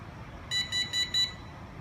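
An EDA C1100M smart cabinet lock used with a Mifare 1K card gives four short, evenly spaced electronic beeps. They sound close and clear over a quiet background hiss.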